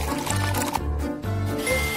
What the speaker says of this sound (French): moi, je verse de l'eau